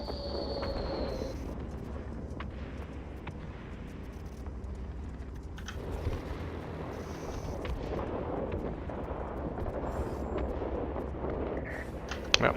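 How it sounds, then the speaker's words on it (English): Eight bombs dropped from a B-17G bomber explode on target in a combat flight game, a continuous deep rumbling roar of blasts and debris that rolls on throughout, with a sharper thump near the end. "that's the power of the 8 bombs landing on the target"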